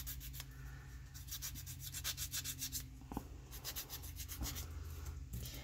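Sandpaper rubbing around the edges of small cardboard-backed paper charms, a dense run of quick, close scratchy strokes in short bursts with brief pauses between them, quiet and steady throughout.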